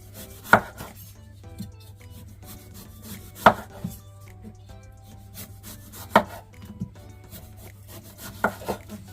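Knife work on fruit on a cutting board, with a few sharp, separate cuts spaced a couple of seconds apart over a steady low hum, close up and with no voices.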